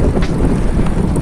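Cold headwind buffets a cyclist riding hilly roads around Lake Ladoga in September, a steady, loud rushing roar with gusty microphone buffeting throughout, no voices.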